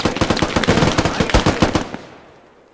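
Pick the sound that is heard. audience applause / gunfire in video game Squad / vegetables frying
gunfire in video game Squad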